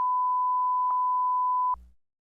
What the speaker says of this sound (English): I'll mute us both on the podcast, and you can just tell me, and I'll actually bleep it out.